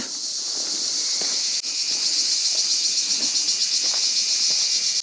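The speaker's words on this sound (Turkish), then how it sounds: "Şu anda da duyduğunuz üzere Ağustos böceklerinin mükemmel senfonisini dinliyoruz." A dense, steady high-pitched insect drone of cicadas fills the air continuously, loud and unbroken, with faint rustling underneath, in a stone-built village near Çanakkale, Turkey.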